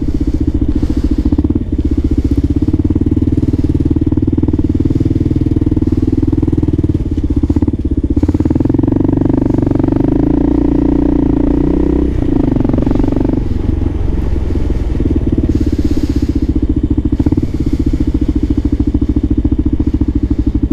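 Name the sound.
Kawasaki KLR650 motorcycle engine running in winter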